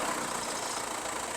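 A Mercedes-Benz E220 engine runs after a sudden no-start fault caused by a shorted wire, settling into a steady, even idle with a continuous hum and no voices.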